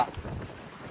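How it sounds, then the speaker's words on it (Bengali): Strong storm wind buffets the microphone beside a river in the Sundarbans, a brief, low, rumbling gust of rushing air. "বন্ধুরা প্রচন্ড ঝোরে হাওয়া ঝড়ো হাওয়া ছাড়ছে দেখো"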